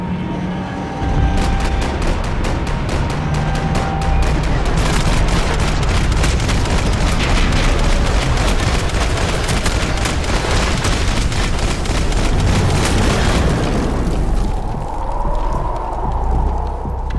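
A Max Payne 3 shootout erupts into loud, sustained automatic gunfire with heavy booms and cracks, dense and close for most of the stretch before easing off near the end.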